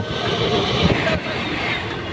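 Steady low rumble and rushing noise from inside the moving 13187 Maa Tara Express from Kolkata to Tarapith, a continuous close wash of sound with no clear rhythm.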